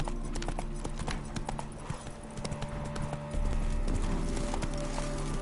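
Roach, Geralt's horse in The Witcher 3, gallops in a steady rapid clip-clop of hooves under a continuous game soundscape, loud and close, with no talk.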